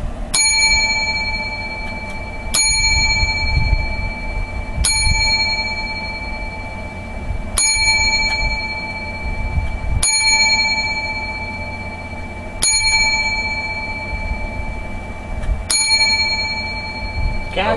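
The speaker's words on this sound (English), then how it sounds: "Seven bells for Muhammad Ali." A bell rung seven times in tribute to Muhammad Ali sounds seven clear, ringing strikes at slow, even intervals, each tone lingering into the next, with no talk.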